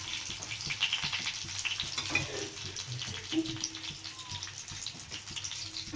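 Green chillies fry in hot oil for a Telugu pongal and groundnut chutney, giving a steady close crackling sizzle with scattered pops and occasional stirring clinks throughout.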